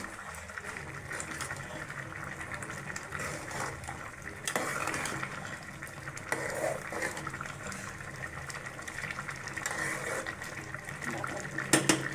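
Jute greens are stirred in a pan, giving a steady run of soft scraping and clinking with faint sizzle throughout, plus a few sharper knocks near the end and no talk.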